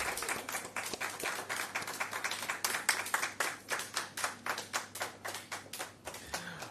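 Scattered hand claps at a Jamaican Ministry of Health handover ceremony for an asthma micro plan, a small group clapping unevenly at close range, the individual sharp claps distinct and thinning out toward the end.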